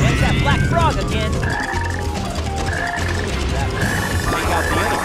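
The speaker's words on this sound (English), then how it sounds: "There's that black frog again!" A black frog in the video game Sonic Heroes croaking in loud repeated bursts, layered over game music and sound effects, with voices in the background.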